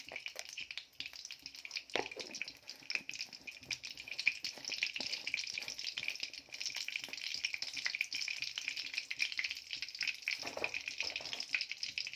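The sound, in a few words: mustard seeds and fenugreek frying in hot oil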